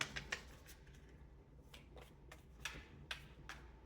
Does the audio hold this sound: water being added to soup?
no